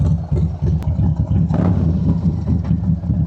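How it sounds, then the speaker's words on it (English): A motorcycle engine runs close by with a loud, steady, low rumble and a brief swell partway through. "This bike sounds great, man."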